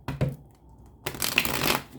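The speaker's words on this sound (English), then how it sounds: "one more shuffle" Tarot cards being shuffled at close range: a short riffle burst near the start, a pause, then a longer, louder stretch of dense papery flutter and rattle, with no talking.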